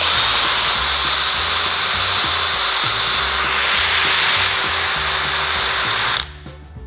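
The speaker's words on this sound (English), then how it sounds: "you need to drill out the hole to start with the right size drill bit" A power drill bores a 5 mm hole in a carburetor from a Lambretta scooter, a loud continuous high whine held steady at close range for about six seconds before stopping abruptly.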